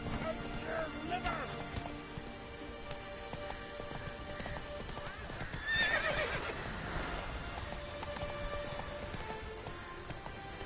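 Roach, the player's horse in the video game The Witcher 3, neighs and whinnies with clip-clop hoofbeats amid game ambience and rain, a louder neigh standing out midway through the steady background.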